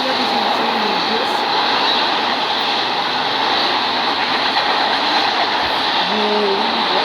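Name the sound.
fast passing freight train, BNSF, CSX and Conrail locomotives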